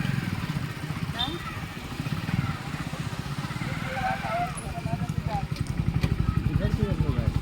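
A motorcycle engine drones steadily while riding, with a pulsing low rumble beneath continuous talking.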